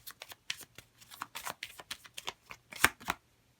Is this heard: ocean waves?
no